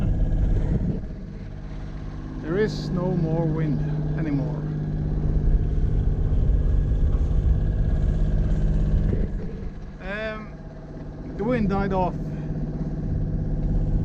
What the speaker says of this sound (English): we have just lowered the sails and put on the engine